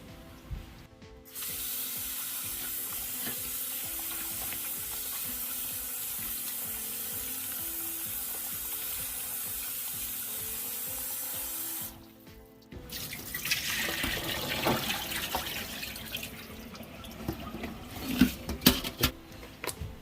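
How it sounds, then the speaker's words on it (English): Tap water gushes steadily into a sink for several seconds, stops briefly, then splashing and clattering follow as raw oxtail is handled and rinsed under the flow. "Now I have the oxtail in the sink. I'm going to run some tap water."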